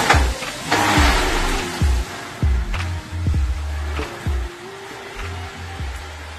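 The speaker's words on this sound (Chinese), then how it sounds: "现在一博已经发动了我们的赛车" An EVISU GT3 race car engine, just started, barks through a series of sharp revving bursts with brief dips between them, loud and close throughout, with no talking.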